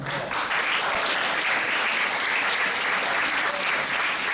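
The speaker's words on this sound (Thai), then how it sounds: "ขอเสียงปรบมือให้กับคุณคุูแอนนะครับ" An audience applauds at the closing ceremony of an Arabic-language training activity: a continuous wash of many hands clapping, loud and steady throughout, with a faint murmur of crowd underneath.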